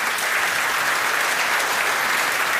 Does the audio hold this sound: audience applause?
yes